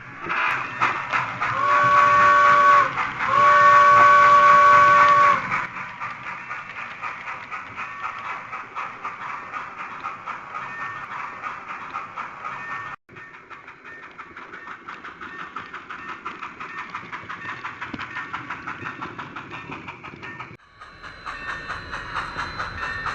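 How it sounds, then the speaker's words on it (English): A model steam train's whistle sounds twice in close succession, loud and near, followed by a steady hissing chuff of the running locomotive. "We're going to take a little train trip."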